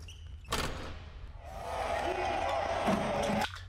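A sharp ripping sound effect for a hype edit: a sudden noisy tear bursts in, then a longer gritty rip swells and holds before cutting off abruptly, loud and close with no talking.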